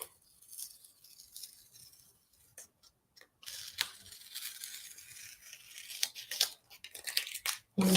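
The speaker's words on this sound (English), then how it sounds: "You start taking the tape off." Masking tape is peeled off the edges of a finished painted color study. It gives crackly, ripping tearing sounds in bursts, quiet at first and growing louder and denser toward the end, close by and with no talking.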